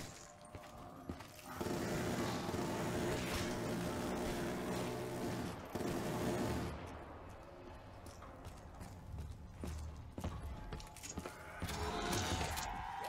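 A minigun in Call of Duty Black Ops 3 Zombies lets out long sustained bursts of rapid fire, buzzing and dense, which stop and start over several seconds amid a busy game soundscape.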